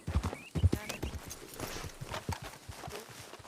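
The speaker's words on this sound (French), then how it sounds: "les chevaux qui s'énervent là" Agitated horses with hooves clip-clopping close by in irregular clusters of hoof strikes, and faint snorts or whinnies mixed in.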